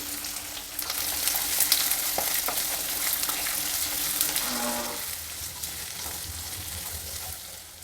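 Onions and green chillies frying in a pan, a steady bright sizzle running throughout with occasional stirring scrapes, close and continuous with no voices.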